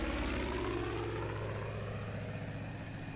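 Propeller plane engine in the video game Far Cry 5, a steady droning hum close by with a low throbbing pulse that fades slightly toward the end.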